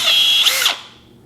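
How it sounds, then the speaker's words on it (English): A Milwaukee 3601 compact drill spins up in a shop, a steady high motor whine for about a second that drops away as the trigger is released and the motor winds down. "This is a 3601 compact drill, perfect for working in the shop."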